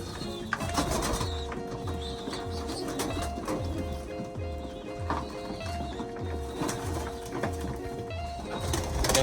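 Pigeons coo in a loft, a steady series of low rhythmic throaty coos repeating about once a second, close and continuous, with faint rustling and distant background noise.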